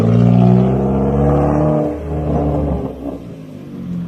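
A Chevrolet Cruze with a modified exhaust revs loudly with a deep, throaty note, rising and falling through a few strong bursts before settling to a rough idle, heard from outside the car.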